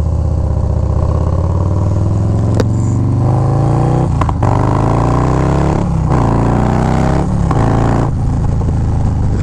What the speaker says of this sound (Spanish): y por eso que este motor suena así.